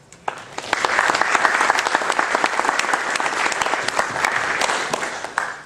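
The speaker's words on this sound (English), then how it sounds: "And they should have a round of applause for what they do." An audience at an astronomy club meeting claps steadily for several seconds, a dense crackle of many hands that swells quickly and holds before tapering at the end.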